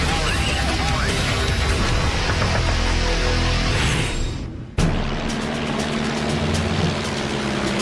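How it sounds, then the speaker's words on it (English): WWI two-seater reconnaissance aircraft flying, a steady loud droning engine roar that cuts off sharply midway, then resumes with crackling texture. "a lone 2-seater reconnaissance aircraft makes its way through the skies"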